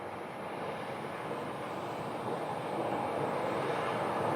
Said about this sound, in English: The third Delta flight that we've seen depart today, Airbus A321.